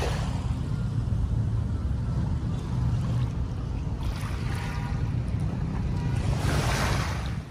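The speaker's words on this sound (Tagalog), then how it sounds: "May dumadaan na barko." Waves wash and churn along Manila Bay as a ship passes, a steady roar of surf and water with gusting wind buffeting the microphone, loud and continuous with no speech.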